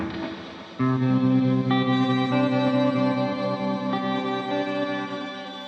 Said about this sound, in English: What about the Replika Shimmer? I think that may be new.